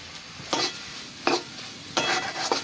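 Cabbage filling for cabbage beguni being stirred in a pan with green chilli and coriander, a low hiss broken by three or four brisk scraping strokes of the spatula, close up, no talking.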